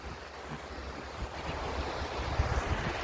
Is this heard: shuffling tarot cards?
no